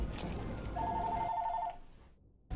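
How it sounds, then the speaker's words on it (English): A mobile phone rings with an incoming call, a faint steady electronic tone lasting about a second under low background noise, followed by a brief silence. "Someone called my phone"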